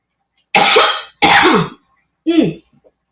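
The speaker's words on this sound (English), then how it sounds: "Of course, we want to cough" Three short, harsh coughs, the first two loud and close together, the last one softer after a pause, with a faint rasp at the end.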